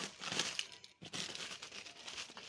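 Plastic bag being pulled off a loaf of freshly baked bread, crisp crinkling and rustling up close with a brief pause midway, no voices.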